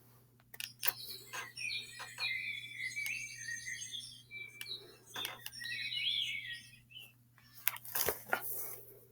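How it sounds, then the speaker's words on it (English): Birds singing in a garden at sunrise, played from a children's sound book: several chirps and short warbling phrases come in bursts over a low electrical hum, faint and slightly tinny, with clicks and handling noise between calls. "The sun is rising over the garden and all the birds are starting to sing."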